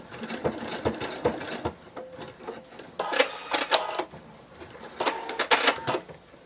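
A sewing machine stitches a small plush dragon wing in quick bursts of rapid mechanical clatter, pausing between runs.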